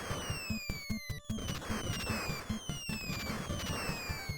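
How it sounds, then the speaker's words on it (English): Grenade explosions in the video game The Guardian Legend, rapid chiptune blasts and crackling bursts repeating in quick rhythm over descending electronic tones and looping game music. "Too many grenades."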